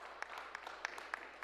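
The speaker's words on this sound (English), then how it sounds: "Give him a round of applause, please." An audience at a certificate presentation claps briefly, a faint scatter of individual hand claps in an indoor room.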